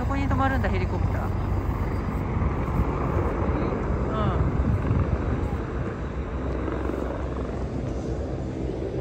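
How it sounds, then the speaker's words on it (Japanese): A helicopter flies over Hong Kong, a steady, fairly loud rotor and engine drone that lasts throughout while people talk nearby. "あそこに飛ばるんだヘリコプター。"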